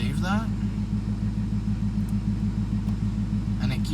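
A sports car idles with its exhaust set to track mode, producing a steady, deep rumbling drone that is loud and close and stays constant throughout, with brief bits of a voice at the start.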